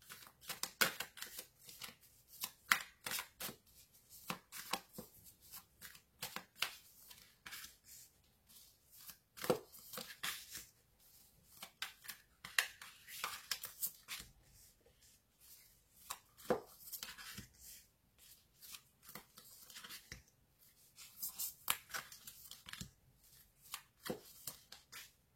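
Tarot cards being shuffled for a reading, a quiet, close rapid riffling and slapping of the deck repeated in bursts, with no talk over it.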